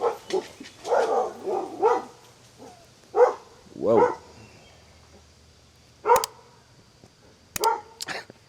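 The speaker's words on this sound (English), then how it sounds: "Sorry about that. Dog's going nuts." A dog barks in repeated loud, close bursts indoors, with a pause midway and a few sharper yips near the end; a man briefly exclaims between barks.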